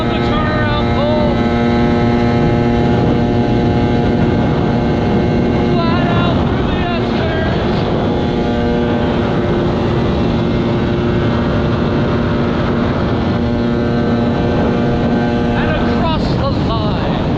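An FZ 1200R two-stroke jet ski races flat out across the water, a loud, high, droning engine whine holding steady for a long stretch with wind buffeting the microphone, then shifting pitch as it turns.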